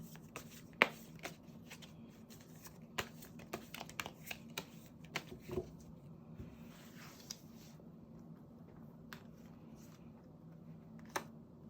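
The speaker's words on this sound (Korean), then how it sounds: "카드를 섞고" Tarot cards being shuffled, a quiet run of soft papery riffles and light taps spread across the clip, with a few sharper card slaps standing out near the start and middle.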